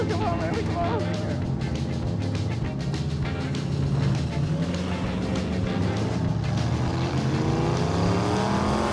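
Mazdarati project car, a Mazda-based build with sluggish steering, drives hard in a showdown race; a steady, loud engine drone and road roar continue throughout with shifting pitch, and a person talks over it.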